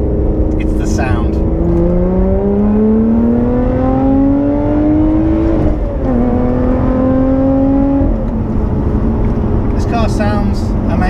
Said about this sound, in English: As you heard there, hopefully on the camera, the exhaust note is amazing.